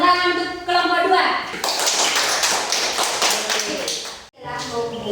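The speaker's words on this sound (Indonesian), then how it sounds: "Bagus, tepuk tangan untuk kelompok 2." Schoolchildren in a classroom clapping for a group of classmates, a burst of many small hands clapping in the middle, loud and close, with a teacher's voice and children's speech before and after.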